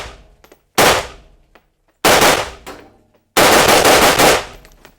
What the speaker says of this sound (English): I'm going to shoot each rifle a couple of times